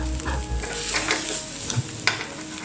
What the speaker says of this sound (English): you can decide to stop the frying process whenever you're ready